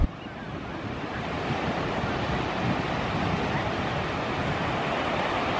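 Ocean surf rolls in a steady, broad wash at Haystack Rock beach at low tide, mixed with wind buffeting the microphone, continuous and fairly loud.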